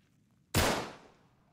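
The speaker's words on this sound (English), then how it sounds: "I'll shoot the lock off" A single sharp gunshot blasts a lock off in Uncharted 3: Drake's Deception, loud and close with a brief decaying tail after a quiet lead-in.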